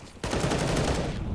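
Gunfire from a Counter-Strike esports match, a sudden loud burst that starts abruptly and continues as a dense rattle of shots for just over a second.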